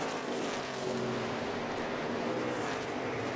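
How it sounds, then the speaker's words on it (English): NASCAR Nationwide Series race cars at Nashville, among them Jason Leffler's and Kenny Wallace's, roar at race speed in a steady, loud, continuous engine drone with no break across the whole stretch. "See what a difference those fresh tires make for Jason Leffler, able to pull back on the racetrack and just go sailing by on the inside of Kenny Wallace"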